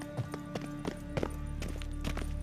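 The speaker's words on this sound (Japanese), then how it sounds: "足音が。" Footsteps in The Witcher 3 video game, a series of soft, evenly spaced thuds walking at a steady pace under a humming background drone.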